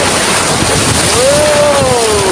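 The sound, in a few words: sea waves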